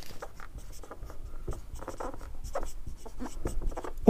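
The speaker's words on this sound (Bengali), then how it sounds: "তাও আমি লিখছি" Pen or pencil writing out Ohm's law on paper, a steady run of close, soft scratchy strokes with short pauses between words, heard alone with no talk.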